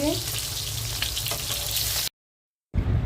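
Steady, dense sizzling of sarputi fish frying in oil, loud and close, cutting out abruptly into a brief silence before the crackle resumes.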